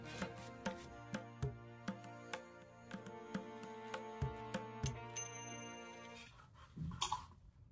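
A knife chops capsicum, onion and garlic on a board: about a dozen crisp, evenly spaced strikes close by with soft clatter between, over a steady background hum, ending in a brief shuffle of handling.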